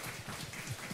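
A church congregation applauding during a Sunday worship service, a brief burst of dense, continuous clapping from many hands at moderate distance.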